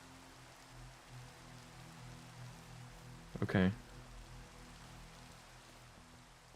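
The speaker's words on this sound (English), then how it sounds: "Enjoy the feeling of rain on your skin, Quackity." Rain falls steadily in Minecraft, a continuous soft hiss that fills the whole stretch, with a voice speaking briefly in the middle.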